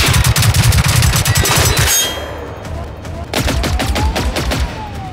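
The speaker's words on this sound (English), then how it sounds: "Are you shooting at me here?" Rapid bursts of gunfire from the video game Generation Zero, loud and close, a dense volley for two seconds, then a pause and another stretch of repeated shots.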